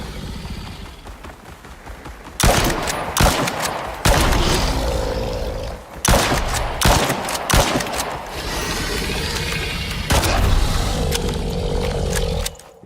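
Rifle fire in the ICARUS survival game during an alligator fight, with loud repeated bursts of shots and roaring impacts filling the clip, separated by a few brief pauses.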